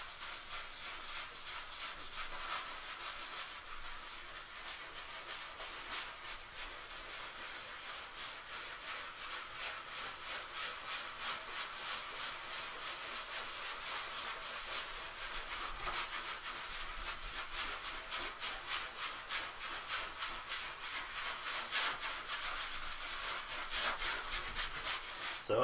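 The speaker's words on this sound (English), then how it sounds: "So I'm really scrubbing this on here." A brush scrubs oil paint onto a painting surface in fast, repeated back-and-forth rubbing strokes, a close, rhythmic scratchy swish that continues steadily and grows slightly louder, with no talking.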